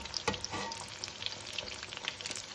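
Spring rolls (nems) bubble and crackle steadily in hot frying oil, a continuous close sizzle with small pops and no voices.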